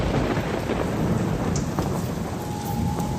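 Thunderstorm with steady heavy rain at night, a horror-story effect: a dense, continuous downpour hiss with low rumbling thunder throughout, loud and close, no voices.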